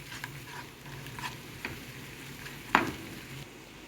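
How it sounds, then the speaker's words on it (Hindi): A spoon stirring milk into a white sauce in a pan, with soft scraping and faint sizzling, plus a few sharper clinks of metal against the pan, close and fairly quiet. "दूध डाल दूँगी थोड़ा थोड़ा करके, और साथ साथ अच्छे से चम्मच चलाते जाना है ताकि इसमें ये गुठलियाँ ना बने।"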